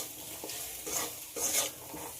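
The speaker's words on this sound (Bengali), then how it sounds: "আবারও খুব ভালো করে কষিয়ে নেব। আমার সব কিছু খুব ভালো করে ভাজা হয়ে গেছে।" Potato with spices stir-frying in a pan, stirred in a few steady scraping strokes over a low sizzle, close and fairly quiet with no talk.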